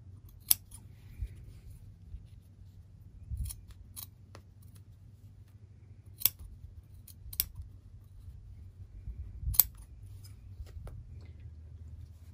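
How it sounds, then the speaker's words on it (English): Several sharp, crisp snips of sewing scissors cutting felt fabric, spaced irregularly, each a brief bright click over a low steady background rumble; no talking. "So these are very sharp scissors."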